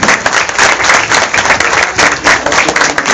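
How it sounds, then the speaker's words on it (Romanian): Sustained applause from an audience at the opening of a folk festival in Liești, Galați, with loud, dense clapping filling the whole stretch without talk. "Aplauze!"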